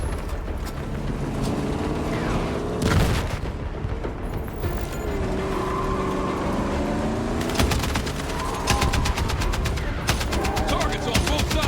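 Gunfire in Battlefield 6 campaign combat, with sharp rapid bursts cutting through a rumbling battlefield din, then another flurry of shots near the end, loud and close.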